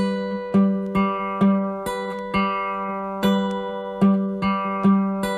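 A song's fingerpicking pattern on acoustic guitar played slowly, each plucked note and chord spaced out in an even rhythm with ringing sustain between them, close up and without talking.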